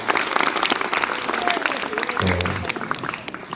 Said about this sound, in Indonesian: Kasih tepuk tangan dulu untuk moderator kita.